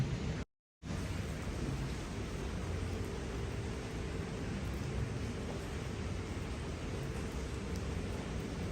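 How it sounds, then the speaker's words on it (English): Steady, even rain hisses without a break, a dense broadband wash with only a brief dropout near the start. "that rain is great white noise"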